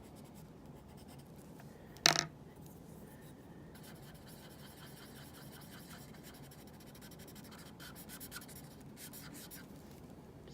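A colored pencil scratches steadily across a coloring sheet, a faint continuous rasp with one sharp tap near the start, close to the listener, with no one speaking.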